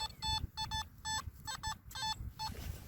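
A metal detector chirps out repeated short bursts of its target signal tone over a buried find at a farm, the beeps sounding close and loud above rustling digging noise.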